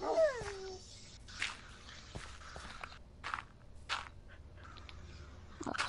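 A hurt dog in the video game Minecraft lets out a short, high, falling whimper right at the start, followed by soft scattered footsteps and faint clicks.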